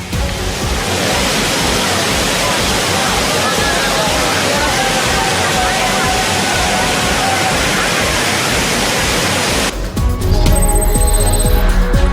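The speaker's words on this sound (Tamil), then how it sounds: "அவர்கள் அருவியில் கொட்டும் தண்ணீரில் நீண்ட நேரம் நீராடி மகிழ்ந்தனர்." Thirparappu waterfall roars as tourists bathe beneath it: a loud, dense, unbroken rush of falling water that fills the scene, shifting in tone near the end.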